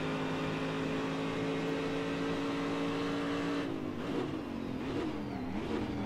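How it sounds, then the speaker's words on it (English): Corvette DP race car engine in the Assetto Corsa racing simulator, a steady droning hum that turns into rising and falling revs with gear shifts toward the end, sounding moderately close with no talking. "The engine noise actually sounds like it's behind me,"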